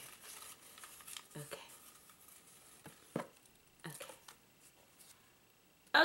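Cut-up paper name slips rustle and patter inside a box as it is shaken, in soft, irregular bursts with quiet gaps between them.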